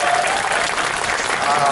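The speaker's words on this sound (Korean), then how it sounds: "흉 좀 봤으니까 이해를 하시라고 하시고 박수 한번 주십시오." Crowd applause at an outdoor street lecture in front of Gumi station, South Korea: steady, loud, continuous clapping from a large gathering fills the whole short clip.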